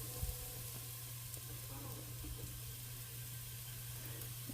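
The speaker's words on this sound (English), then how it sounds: "our onions are nicely sauteed, so we're going to go ahead and we're going to add our flour, pepper," Sautéed onions with flour, pepper and red pepper flakes in a pan, a steady, soft sizzle and crackle that holds evenly throughout, with a few faint stirring scrapes near the start.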